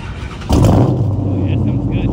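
A 2006 Dodge Charger SRT engine cranks and fires up nearby with a sudden loud roar that settles into a deep, rumbling idle, with people talking over it.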